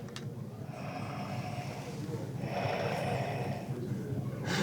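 A LEGO Darth Vader smart toy puts out its mechanical, hissing breathing in two slow inhale-exhale cycles, close by but fairly quiet against a faint background.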